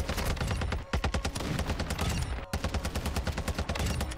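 Battle rifle gunfire in a video game: rapid, rhythmic bursts of loud, close shots in quick succession, broken by a couple of brief pauses before the firing resumes, with no talking over it.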